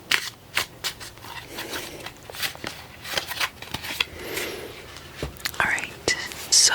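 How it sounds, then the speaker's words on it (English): Tarot cards are shuffled and mixed by hand up close, a run of crisp riffling, flicking and sliding card sounds with soft whispering over them. "I'll just mix these cards up a little bit."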